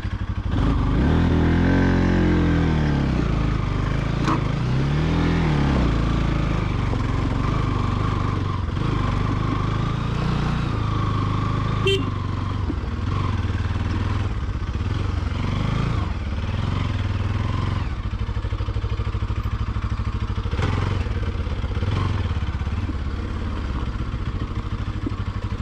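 Motorcycles ride along a rough mountain trail on the way to a hike, their engines droning steadily and loudly throughout with shifting revs and some clatter.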